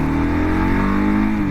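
A 2022 Kawasaki KLR 650 adventure motorcycle accelerating hard in a pull test, its engine droning loud and close with a steadily rising pitch, no voices over it.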